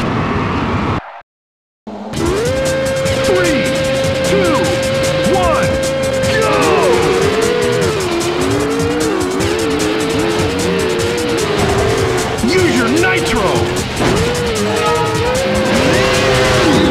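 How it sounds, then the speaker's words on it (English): Racing car engines from the PS2 offroad racing game Offroad Thunder roar loudly and continuously after a brief silence, with a sustained engine whine, shifting pitch and squealing tires, and a game announcer's voice calling out over the action. "Start your engine!"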